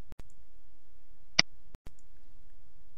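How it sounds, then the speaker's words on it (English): A few sharp mouse clicks selecting a checkbox in a D2L Brightspace attendance tool, spaced apart in a quiet room with no talking. "click on the checkbox next to their name"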